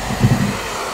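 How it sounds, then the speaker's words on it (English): A hair dryer on low or medium heat with full airflow gives a steady, close breathy whoosh with a slight low rumble, heard alone for a moment. "Just connect to your hair dryer."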